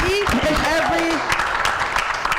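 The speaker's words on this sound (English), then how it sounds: "give him a round of applause" Beach event audience applauding a judge at an urban business pitch competition, a short burst of clapping that fades quickly under a speaker's voice.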